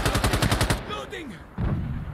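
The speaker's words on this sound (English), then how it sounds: "Explosive artillery coming!" Rapid volley of artillery blasts in Insurgency: Sandstorm, a string of loud booming impacts in quick succession, then a whistling, whooshing lull before another heavy rumble rolls in.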